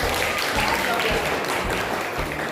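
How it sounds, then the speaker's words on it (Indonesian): Students in a high school class applaud, a dense patter of clapping hands. Voices talk faintly beneath it. "Berikan tepuk tangan dulu."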